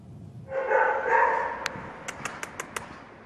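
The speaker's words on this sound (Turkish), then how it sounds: "Havlama sesi çevredekileri meraklandırdı." A puppy trapped in a flooded elevator shaft barks and whimpers in echoing, drawn-out cries, followed by a quick series of five or six short, high yips, moderately near, with no talking.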